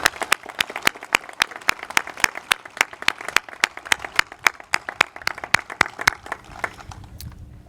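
Rhythmic, evenly spaced clapping at a middle school graduation ceremony honoring award recipients, sharp and fairly close, continuing steadily before thinning out at the end.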